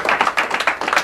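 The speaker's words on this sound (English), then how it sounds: "Everyone give a round of applause for Nicole." A studio audience claps for a host named Nicole on a live comedy show, giving a short run of quick, fairly close handclaps with no talking.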